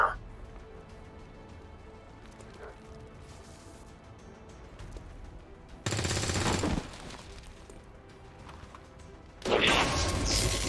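Heavy gunfire in the video game XCOM 2 arrives in two loud, dense bursts, one near the middle and a longer one at the end, rising sharply over a quiet, low game background.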